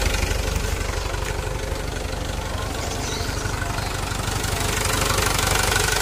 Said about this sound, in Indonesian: Kontak mati tapi mesin tetap hidup.